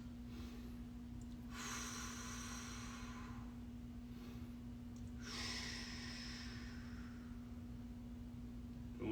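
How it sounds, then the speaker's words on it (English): Deep, slow breathing during a stick mobility workout class: two long, airy exhales a few seconds apart, close and moderately loud, over a steady low electrical hum with no talking. "Deep breaths."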